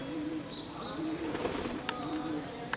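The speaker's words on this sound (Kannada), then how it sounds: "ಎಲ್ಲ ಬರ್ಡ್ಸು ಕಲಿತು ಮೇಲೆ ಹಾರ್ತಾ ಇದ್ದಾವೆ" Racing pigeons in a loft coo softly amid faint wing flutters and low background noise, several birds calling close by with no clear speech.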